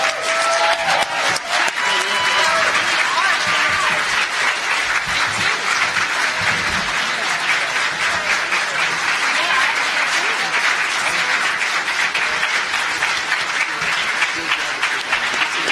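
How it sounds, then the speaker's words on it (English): A convention audience gives a long round of applause, dense steady clapping with some cheering filling the room at close range from start to finish. "give them a round of applause"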